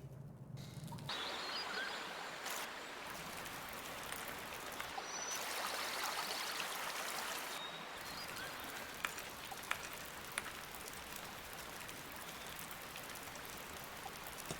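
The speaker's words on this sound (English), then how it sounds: "Is that the spring I heard flowing?" Spring water in a cavern setting from the video game Echo: Secret of the Lost Cavern makes a quiet, steady trickling and splashing wash throughout, faint and unbroken, with no speech.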